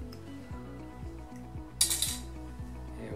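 Couple of copper washers clinking together during TSDZ2 sprag clutch replacement work, a short cluster of bright metallic chinks over a steady low mechanical hum.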